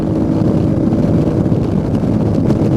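A Royal Enfield Meteor 350 motorcycle at speed, running at around 100 to 120 km/h in fifth gear, gives a loud, constant low engine drone mixed with heavy wind rush. The sound stays steady, with no clear gear change.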